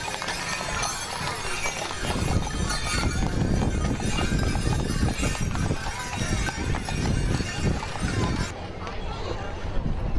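Draft horses, including a pair of 8-year-old blonde geldings, clip-clop steadily along the street in a Christmas parade in Marceline, Missouri, their hoofbeats continuous and fairly close under a crowd's murmur and a loud announcer's voice.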